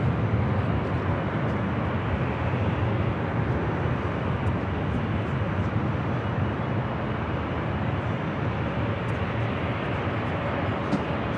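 A Southwest Airlines Boeing 737 MAX 8 takes off from LAX, bound for Houston Hobby, producing a steady, broad jet engine roar that holds loud and constant throughout with no talk.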